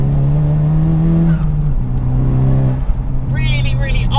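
A tuned, turbocharged Honda Civic Type R FK2 making about 370 bhp revs hard with a loud, steady engine drone that drops and climbs again, ending in a higher whine, with someone talking over it.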